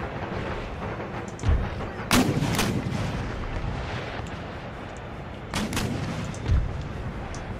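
Artillery and gunfire boom in a war video game set in Denmark, several sharp heavy blasts spaced a few seconds apart over a low rumbling battlefield background.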